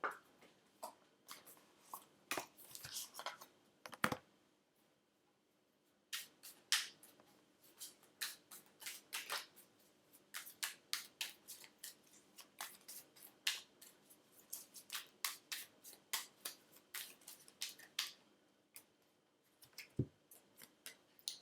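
Oracle cards are shuffled by hand, a series of crisp riffling snaps and flicks in irregular bursts separated by short pauses, close and quiet, with no talking.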